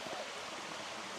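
Rainforest stream flowing in a steady, even wash of water noise, quiet and continuous, with no voices.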